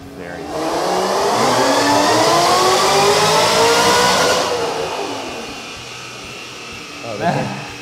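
A car engine revs hard and loud, climbing and holding high for several seconds before falling away, with people talking over it.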